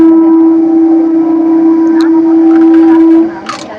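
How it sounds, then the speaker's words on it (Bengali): A train horn sounds at a level crossing with the gate down, one loud, steady, sustained blast lasting about three seconds before it cuts off. "ট্রেনের হর্ন শুনতে পাচ্ছেন আপনারা, আসছে এবার ট্রেন।"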